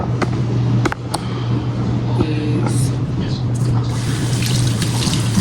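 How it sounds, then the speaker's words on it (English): Tap water runs over rice in a kitchen strainer, a steady splashing rush under a low hum, with a few clinks and bumps mixed in. "Put it in the strainer and run the water over it"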